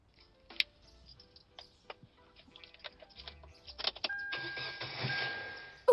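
A car engine cranks with scattered clicks and ticks, then catches and starts near the end, settling into a rising mechanical hum close by.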